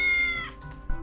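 A cat meows in the video game Tales of the Neon Sea, one drawn-out, clear meow close by with a softer follow-up near the end, no talking.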